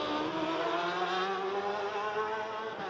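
A racing motorcycle screams past at the Macau Grand Prix, a sustained high-pitched engine wail that shifts in pitch as it nears and crosses the finish line.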